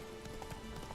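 Hooves of the horse Roach clop in The Witcher 3 video game, a quick run of soft thuds heard faintly over a low background hum and chatter.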